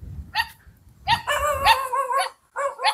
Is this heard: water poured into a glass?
no